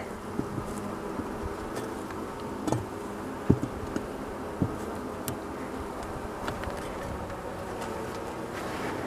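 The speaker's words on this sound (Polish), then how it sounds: "no ale poszły pszczoły." Steady droning hum of honeybees at a warm hive after a recent colony collapse, continuous and close, with a few faint clicks and taps scattered through it.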